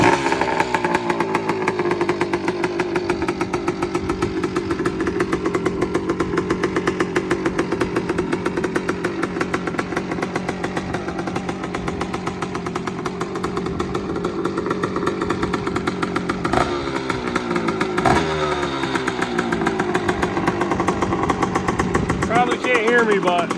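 Engine of a 1987 Honda TRX250R quad with no packing in its muffler runs loudly and steadily with a raspy two-stroke buzz and a couple of brief revs, while someone talks faintly underneath.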